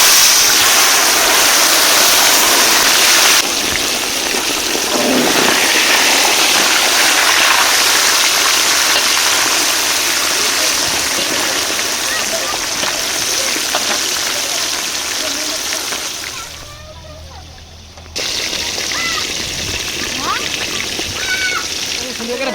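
Fish sizzling and spattering in hot oil, a loud, steady broadband hiss that runs almost throughout, briefly dropping away near the end before resuming.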